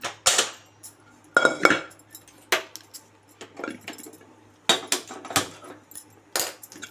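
A cooking pot is set down in a home kitchen while preparing a taro-root (chamagadda) stew, giving a series of sharp, close metallic clanks and clatters with short pauses between them and no talking.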